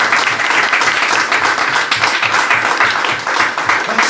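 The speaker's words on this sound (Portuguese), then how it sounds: "Você pode aplaudir o nome de Jesus?" A church congregation applauding loudly, a dense, continuous wash of clapping from a large crowd holding steady throughout.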